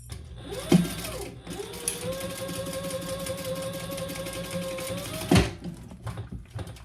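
Sewing machine running a steady, continuous stitch along a waist pack strap, laying down rows of stitching, with sharp clunks at the start and end of the run; close and fairly loud, no talking.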